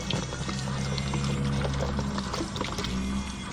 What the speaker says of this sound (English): Put water upon them and rinse them off.